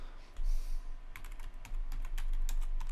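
Rapid clicking keystrokes come from a computer keyboard, close and distinct, in quick irregular bursts over a low background hum.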